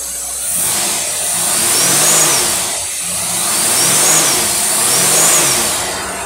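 A car engine fitted with a Holley two-barrel carburetor is revved three times in steady swells, each rise and fall heard up close with no talk.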